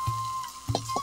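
Hot oil sizzling in a pan for frying crab, a steady close hiss punctuated by a few brief clacks of a utensil against the pan.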